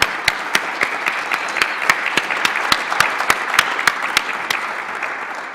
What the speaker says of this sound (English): I wanted to just give a big round of applause for all of our sponsors